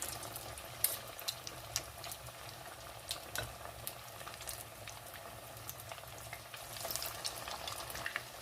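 Corn and minced pork fritters fry in hot oil over medium heat, giving a low steady sizzle with scattered small pops and crackles throughout, fairly quiet and with no voices.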